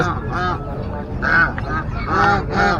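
Geese honk repeatedly at a Saturday pet market in San Carlos City, Pangasinan, loud and close, several overlapping harsh calls in bursts with crowd noise beneath.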